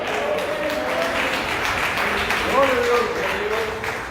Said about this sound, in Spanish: como es un aplauso para el Señor, se lo dé toda la congregación